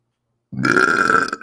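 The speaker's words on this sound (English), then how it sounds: "that's for that one guy who doesn't like my burps." A single long, loud burp from a man, starting abruptly after a short silence and rumbling steadily for about a second before cutting off.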